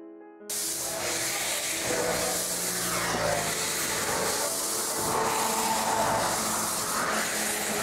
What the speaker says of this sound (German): Also dann Abfahrt mit der Dampflok und ab ins Dollartal.